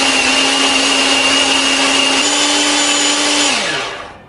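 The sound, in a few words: food chopper grinding chili, shallots and garlic for sambal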